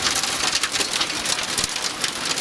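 Hail pelting down on a small vegetable garden with seedlings, a dense, steady hiss of hard pattering impacts filling the whole stretch, loud and close with no voices.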